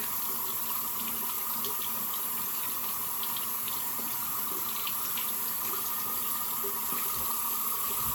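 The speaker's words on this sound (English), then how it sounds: "I'm going to start rinsing my coin off before the water gets too hot." A coin is rinsed under a running water tap, with a steady, even rush of water flowing without pause throughout and no talking.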